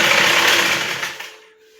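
A sewing machine stitching neck piping gives a brief, loud whir that winds down and stops.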